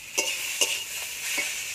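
Chili powder and beans frying and being stirred in a pan for a pui mituli dish, a steady soft sizzle broken by three or four brief scraping stirs, close and fairly quiet.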